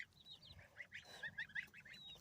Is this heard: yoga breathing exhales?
no